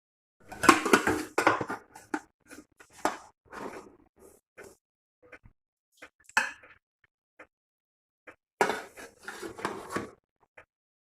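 Savour pulao scooped out of a pot into a serving dish, scattered clinks and scrapes of a spoon on metal and ceramic in short bursts with pauses, close and fairly quiet, without talk.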